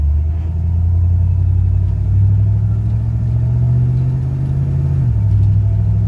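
A 1967 Chevy C10 pickup cruising around the block, its engine a steady, loud low rumble with a slight rise in pitch as it pulls, then a brief dip near the end like a gear change.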